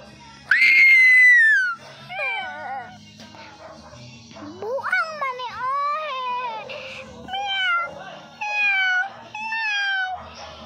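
A cat meows repeatedly, a series of loud, close, rising and falling cries, some long and wailing, some short, with brief quieter pauses and faint background talk.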